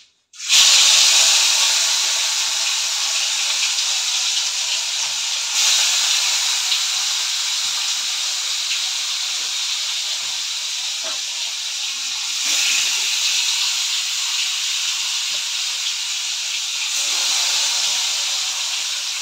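Vegetable bhaji fries in hot oil, starting abruptly as a loud, steady, bright hiss that continues for the whole stretch with slight swells and faint clicks underneath.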